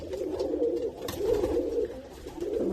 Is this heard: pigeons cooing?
yes